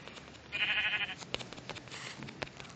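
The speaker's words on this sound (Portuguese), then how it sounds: "3 ovelhas. Vou matar essas 3." Sheep bleat in a survival video game, one loud wavering bleat close up followed by fainter bleats and clicking game sounds.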